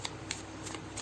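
Tarot cards are shuffled in quick riffling bursts, several soft crisp flutters close by in a quiet room.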